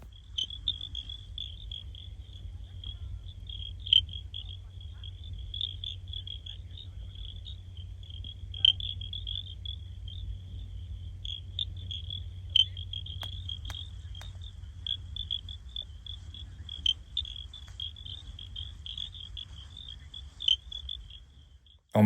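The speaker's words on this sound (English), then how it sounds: "I think these are frogs." Frogs call on Table Mountain in South Africa, forming a continuous high-pitched trilling chorus that runs unbroken and fairly close. A low rumble and occasional faint ticks sit beneath it, with no voices heard.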